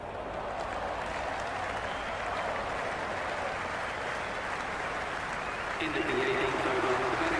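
Cricket crowd at a match applauding steadily, a dense continuous wash of clapping that holds throughout and swells slightly near the end, with a faint tone entering late.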